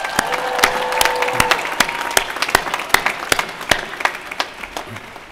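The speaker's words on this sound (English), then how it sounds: "I'd ask you to join me in giving both our faculty and our staff one more round of applause." A graduation-ceremony crowd applauds faculty and staff, broad steady clapping at a distance, with several sharper nearby claps standing out in an irregular pattern.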